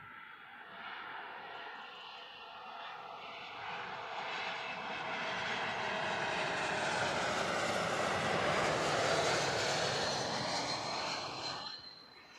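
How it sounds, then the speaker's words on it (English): An Air Baltic Airbus A220 passes at Heathrow, its engine roar swelling steadily to a loud, sustained peak before dropping away sharply at the end. "So this one, Air Baltic A220 with a Eurowings flight code."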